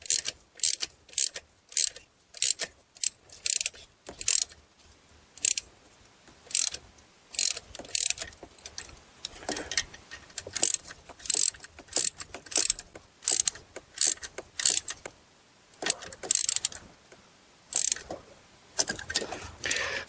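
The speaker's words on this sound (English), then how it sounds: "Then snug both of those bolts up as well." A ratchet snugs bolts on a transmission mount of a Chrysler Town & Country with a 62TE transmission, giving repeated bursts of sharp clicking in short strokes separated by brief pauses.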